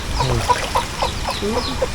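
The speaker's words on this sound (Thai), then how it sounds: "มีไก่แวะมาทักทาย" A chicken clucks repeatedly nearby, a run of short, choppy clucks and murmurs at moderate volume with no talking.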